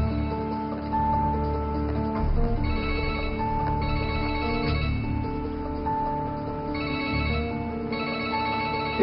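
A phone ringtone plays steadily for several seconds, a repeating melodic ring heard alone at moderate level with no talk over it.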